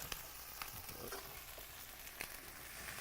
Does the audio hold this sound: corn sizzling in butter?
yes